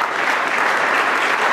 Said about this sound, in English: let's give a round of applause to these donors